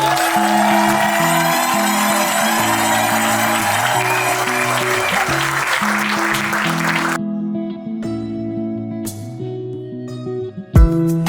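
Guests at a civil and religious wedding applaud and cheer under loud recorded music; the crowd noise cuts out abruptly partway through, leaving the music playing alone.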